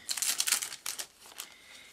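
Thin plastic sheet crinkling as it is pressed firmly flat over handmade paper, a few quick bursts of crackle that fade toward the end.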